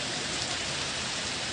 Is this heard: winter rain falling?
yes